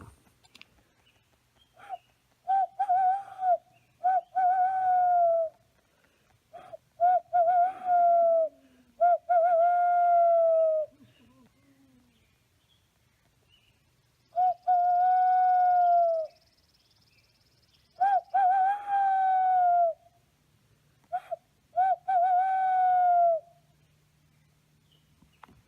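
A person imitates an owl in a forest, voicing a series of clear, wavering hoots in short groups separated by pauses, loud and close against near silence.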